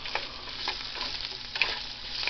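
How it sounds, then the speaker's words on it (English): Potatoes fry in butter in a pan with a steady, close sizzle, broken by the scrape and clink of a metal spoon stirring them around. "Frying potatoes up."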